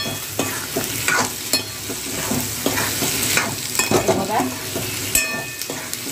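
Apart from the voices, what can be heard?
raw mango frying with turmeric in a pan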